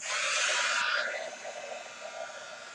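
Handheld heat tool blowing hot air over embossing powder on a handmade card, a loud close whooshing hiss that drops to a quieter steady blow partway through, with no voices.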